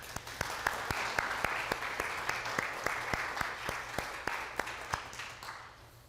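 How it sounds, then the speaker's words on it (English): An audience at an art museum talk in September 2025 breaks into steady applause, with crisp individual claps standing out over a dense wash of hands that holds moderately loud throughout, then tapers toward the end with no voices. "Please join me in a round of applause for their generous support."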